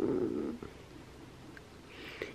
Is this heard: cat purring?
yes